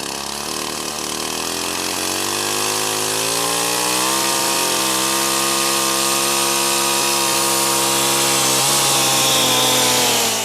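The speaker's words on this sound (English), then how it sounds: "So we'll fire up the chainsaw one more time and very carefully start to clean this out." A chainsaw runs loud and steady while carving into a dying tree trunk. Its engine drone holds close and continuous throughout, rising slightly in pitch as it bites into the wood.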